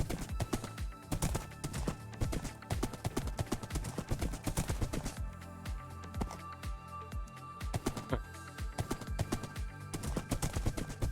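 Horse galloping in Minecraft Bedrock Edition, a steady run of hollow hoof clip-clops across the whole stretch, close and rhythmic, with a brief whinny and no talking.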